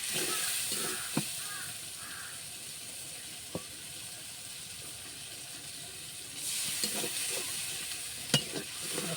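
Mutton frying in a pan with cumin, turmeric, chili powder and salt, a soft steady sizzle under occasional stirring clicks and scrapes, with a louder hiss near the end, fairly quiet and with no speech.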